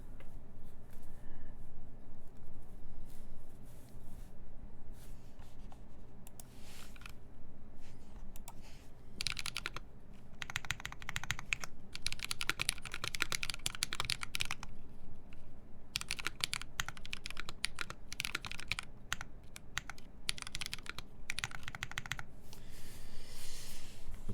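Steady typing on a Squid 60 custom mechanical keyboard: dense, continuous clacking keystrokes with busier bursts of fast clicks, close and clear, with no talking.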